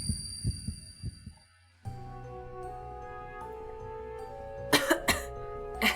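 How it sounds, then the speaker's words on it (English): Video game (Spirit Hunter: NG) audio carries a pained person's coughs, a few low rhythmic hacks at the start, then a humming tonal ambience with a couple of brighter bursts near the end. "I hear coughing sounds."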